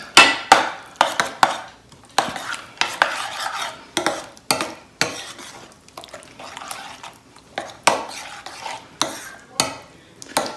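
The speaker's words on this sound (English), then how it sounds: "let's stir it up and see" A spoon stirs a thick, creamy cauliflower carbonara sauce in a bowl, making repeated close scraping and wet clacking strokes in an uneven rhythm, with no talk.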